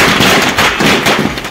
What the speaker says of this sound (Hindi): पटाखों की आवाज से पूरा इलाका गूंज उठा